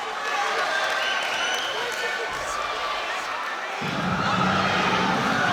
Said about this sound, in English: Crowd absolutely on their feet here, Ian.